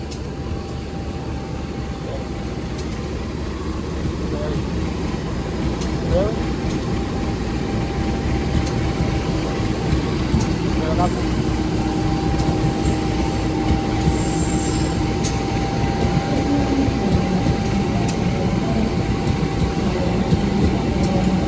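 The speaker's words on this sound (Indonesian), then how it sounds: "Kereta api Batavia resmi menyusul kereta api Motis Selatan di stasiun Kutoarjo." A train, with KA Batavia overtaking KA Motis Selatan, passes through Kutoarjo station on double track, a steady loud rumble of rolling wagons with faint wheel squeals and clicks throughout, no talk.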